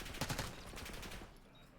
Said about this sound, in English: But with some bullets flying in the air